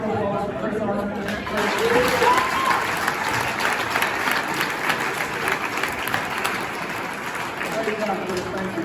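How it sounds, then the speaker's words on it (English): An audience at a chamber of commerce awards event applauds steadily, a dense sustained clapping from a crowd with a few voices mixed in underneath. "Can we go round of applause for Chris Armand?"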